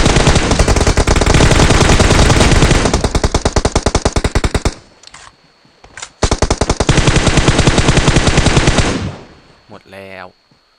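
Long bursts of rapid automatic gunfire in the video game PUBG Mobile, loud and close, with a short pause between volleys, ending with a few scattered electronic tones.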